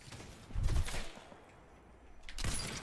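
Gunfire in the Fortnite battle royale during a duos end game, with a heavy shot early on and another burst later, both moderately loud against a quieter stretch in between.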